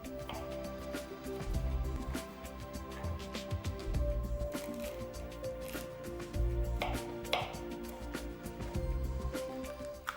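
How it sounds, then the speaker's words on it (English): A knife chops food on a cutting board in quick, rhythmic bursts of dull taps, pausing briefly between runs, with a soft background hum throughout. "Chop into fine slices then chop again."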